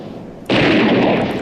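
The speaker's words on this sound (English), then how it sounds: "Wow, a lot of shooting and explosions going on." Dense, sustained burst of gunfire and explosions erupting suddenly after a quiet moment, loud and continuous like heavy combat noise, with no talk over it.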